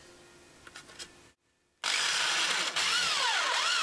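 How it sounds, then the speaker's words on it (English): A power drill pre-drills screw holes in a wooden newel post, bursting in loud and close after a brief pause and whining at a steady pitch with a few speed dips. "Then I pre-drill my holes for the screws."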